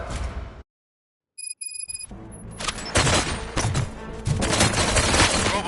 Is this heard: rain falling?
no